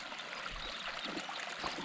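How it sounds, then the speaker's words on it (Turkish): Snowmelt water trickles and babbles steadily along a mountain stream near 3200 metres on Mount Ararat, a soft continuous rush with no voices. "dere yatağından suyun geldiğine şahit oluyoruz"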